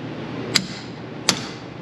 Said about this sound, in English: Maybe jar it with a hammer a couple times.